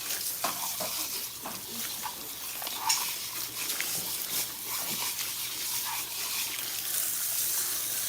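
Water runs as a client's hair is rinsed at a salon sink, a steady hissing spray with small splashes and shifting flow throughout, close and continuous.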